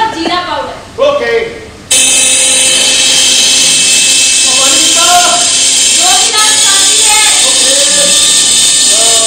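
Brief talking, then a mixer grinder switches on grinding onion, tomato, ginger and garlic with a loud, steady whirring drone that continues without a break, voices still faintly audible over it.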